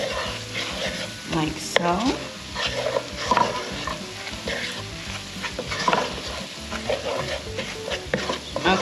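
Butter chicken ingredients sizzle loudly in a pan while a utensil stirs and scrapes through them in uneven strokes, and someone speaks briefly over the frying.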